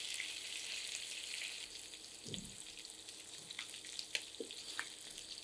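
Liver kabab pieces fry in a pan, making a soft, continuous sizzle at low volume with a few faint pops and crackles scattered through it and no voices.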